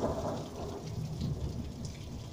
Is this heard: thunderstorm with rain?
yes